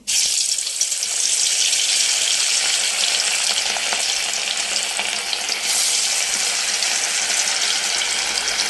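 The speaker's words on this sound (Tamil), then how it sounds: "மீன் நல்லா ஊறிடுச்சு இப்போ வந்து ஒன்றுனா போட்டு பொறிக்கலாம்" Marinated fish pieces fry in hot oil in a pan, a loud, steady, close sizzle that holds unbroken from start to end with only faint movement beneath it.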